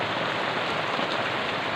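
Steady rain falling during the rainy season, a dense, unbroken hiss of drops striking surfaces nearby, loud and even throughout with no voices.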